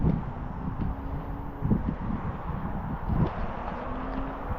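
Wind gusts across the microphone on Mt Roskill, a volcanic cone in Auckland, a faint low buffeting rumble with a few soft swells and rustles, no voices.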